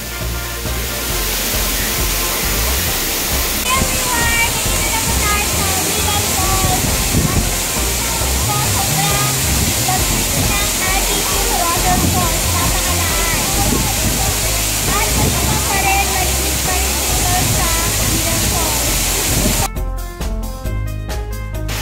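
Ng Tung Chai waterfall cascades with a loud, continuous rushing roar heard up close, a dense wash of splashing water that cuts off abruptly near the end.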